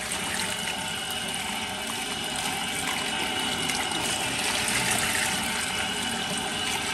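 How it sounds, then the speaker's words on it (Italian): Tap water runs steadily over tripe being rinsed in a kitchen, a continuous close hiss and splash of flowing water with no talk over it. "Che va sciacquata d'acqua corrente."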